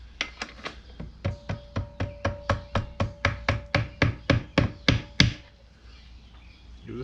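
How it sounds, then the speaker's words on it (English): A hammer taps the steering shaft of a Minn Kota 36V trolling motor during steering housing replacement, giving about twenty sharp metallic knocks in a steady, quickening rhythm, close and clear, before falling silent. "I'm just going to tap this shaft"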